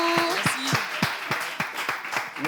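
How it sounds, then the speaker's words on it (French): Audience applause at a French local event, a fairly small group clapping in uneven bursts with distinct individual claps, mixed with voices and some tonal sounds over about two and a half seconds. "Nous allons applaudir et le raccompagner."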